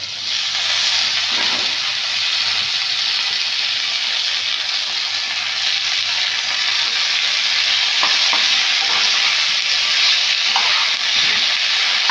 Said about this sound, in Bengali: একদম সবজিগুলো ভাজা ভাজা হয়ে গেছে এবারে শাকটা দিচ্ছি কুমড়োর শাকটা